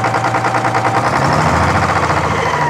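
A sawmill's power takeoff engine idles steadily, a loud continuous rumble with an even pulsing beat heard close by, with no voices over it.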